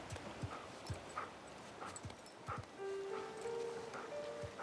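A dog whines and whimpers in short, repeated high whimpers inside the video game Uncharted 4, with soft rustling and game ambience beneath.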